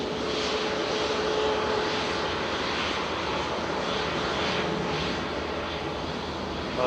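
An airliner lands at Manchester Airport with a steady, loud broadband engine roar and rushing air that holds for the whole stretch with no voices.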